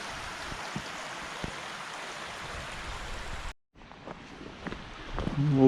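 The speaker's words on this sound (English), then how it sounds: "Nice stream flowing under it." A stream flows under old steel outdoors, a steady broadband wash of moving water with a few faint knocks, briefly cutting out before resuming with wind noise and rustling toward the end.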